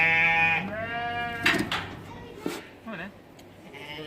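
A freshly shorn wool sheep on a farm during an open farm day gives one clear, drawn-out bleat, followed by a person talking quietly nearby.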